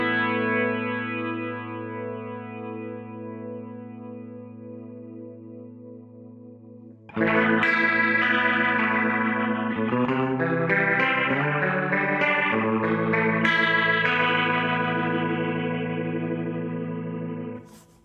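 Guitar played through a Guitar Rig 6 Plexi Rotor Room Leslie rotary effect on the slow setting: a long sustained chord fades out, then a louder stretch of overdriven chords and notes swirls with slow rotary modulation.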